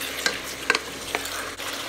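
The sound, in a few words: beef browning and sizzling in pot for stew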